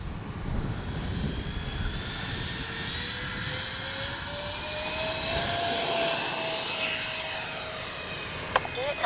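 Freewing 80mm A-10 radio-controlled jet taking off into the wind, its ducted-fan whine climbing in pitch and loudness as it accelerates, heard from close by against outdoor wind noise.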